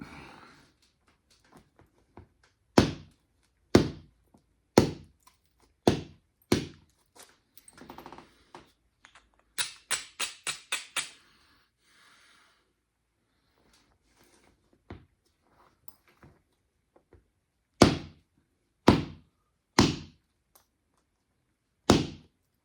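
Creek cobble being flintknapped, a stone hammer striking off flakes in sharp, loud knocks spaced about a second apart, with a brief rapid flurry of lighter taps in the middle and a pause before more heavy blows.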